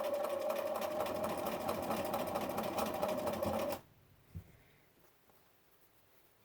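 A sewing machine stitches two fabric strips together at a quarter-inch seam, running steadily and loudly for nearly four seconds before stopping abruptly, followed by quiet room noise and a faint click.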